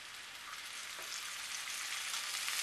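Ginger stir-frying in a hot pan over medium heat for pig trotter with vinegar: a steady, bright sizzle that swells slightly louder, with no voices.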